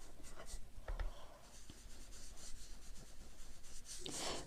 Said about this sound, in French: J'appuie mon petit doigt sur mon éponge. Et selon ce que je veux obtenir comme couleur, j'appuie plus ou moins fort